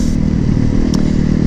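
A Yamaha MT motorcycle, an MT-09 or MT-10, rides on city streets with a loud, steady engine drone and a rough clattering rumble from start to finish, close and unbroken.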